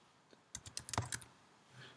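A short, quiet burst of typing on a computer keyboard, about a dozen quick key clicks in a row followed by a soft pause.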